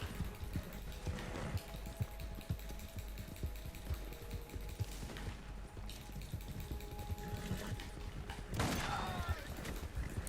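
Shotgun blasts ring out in the Western game Red Dead Online. A few sharp shots are scattered among quieter clattering game noise, all fairly faint, with some background voice.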